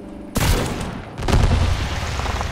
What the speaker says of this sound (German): Das war ein Schuss.